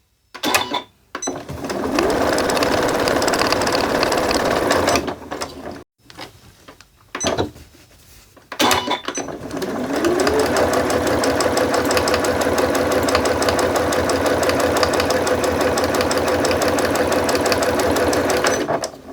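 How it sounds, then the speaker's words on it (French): A sewing machine runs in long bursts while topstitching 2 mm from the edge of an insulated fabric belt bag, a rapid even mechanical whir with short pauses and clicks between runs. "Maintenant, je fais une petite surpiqûre à 2 mm du bord."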